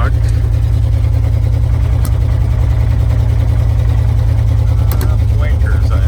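A 1978 Ford F150 pickup truck idles with a steady, loud low rumble and audible exhaust noise from a leak, the engine drone continuous throughout with a couple of faint clicks.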